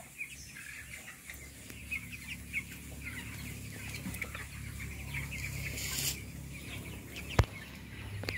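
Broiler chickens in a brooding house cluck and chirp softly as a low, continuous flock murmur, with one sharp knock near the end.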